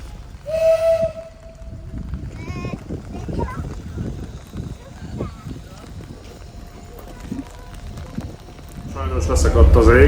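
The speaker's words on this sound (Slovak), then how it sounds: "van egy motorvonat, ami a főpályaudvar és itt a vasutas nap között cikázik" A motor railcar train runs at a Hungarian railway day event, with a sharp whistle or horn note near the start, then rhythmic clattering of wheels over rail joints, rising louder toward the end.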